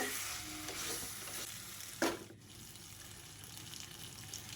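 Jackfruit and prawn masala being sautéed in oil without water: a steady sizzle under stirring, with one sharp scrape of the spatula against the pan partway through.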